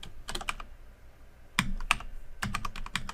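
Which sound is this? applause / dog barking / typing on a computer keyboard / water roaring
typing on a computer keyboard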